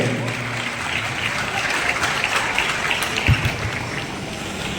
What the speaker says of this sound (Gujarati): આપણે સૌ એમને તાળીઓથી વધાવી લઈએ.